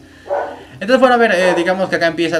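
Dogs bark indoors, a few sharp yips and barks breaking out close by and mixing with a man's steady speech.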